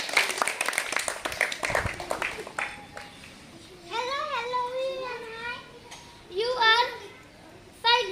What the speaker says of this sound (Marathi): टाळ्या द्यायचा बाकीच्यांनी